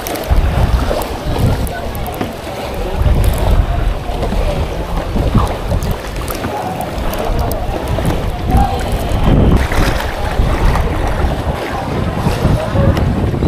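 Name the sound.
strong wind at sea on a boat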